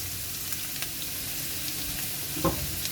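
Onions fry in ghee over medium-high heat for chicken korma, a steady close sizzle with a few light stirring scrapes and taps.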